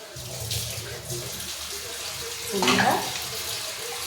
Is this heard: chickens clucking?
no